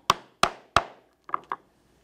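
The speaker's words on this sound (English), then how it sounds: "And now I will take the 1/8 inch thonging chisel. I will punch all the way through." Mallet strikes driving a 1/8 inch thonging chisel through leather, three sharp close knocks followed by three lighter taps, evenly spaced, with no other sound.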